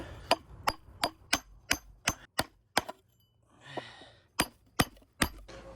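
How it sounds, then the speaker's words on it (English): A hammer knocks a pointy piece off a paludarium background: about a dozen sharp, close strikes at a steady pace, broken by a brief scraping rustle midway, with no voices. "I'm actually gonna hammer off that little pointy part."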